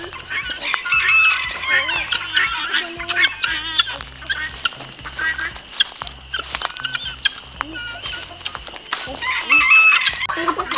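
Backyard chickens cluck busily while a rooster crows loudly twice, near the start and near the end, over a steady undertone of soft clucking and coop rustle.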